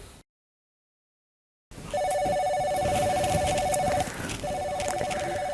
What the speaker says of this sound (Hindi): लो तुम्हारी लाडली का फोन आ गया।